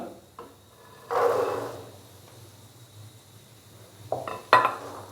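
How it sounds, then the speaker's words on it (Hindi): Boiled black chickpeas tipped into spices fried in oil, giving a couple of quiet clattering, sizzling bursts with soft clinks in between, faint and close. "तो अभी मैं इसके अंदर बॉयल किए हुए चने डाल दूंगा।"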